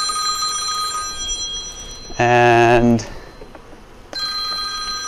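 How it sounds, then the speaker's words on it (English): A telephone bell rings in one loud, sustained burst of about a second near the middle, with quieter tonal hum before and after and a single spoken word. "We've got the phone ringing."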